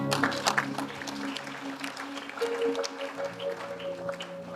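Congregation applauding in a church service, with scattered uneven clapping that carries on steadily beneath faint voices and a sustained musical tone.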